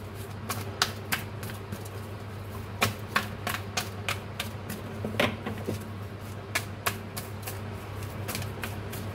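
Tarot cards shuffled by hand, giving a steady series of crisp, close snapping riffles and slaps throughout, with no talking.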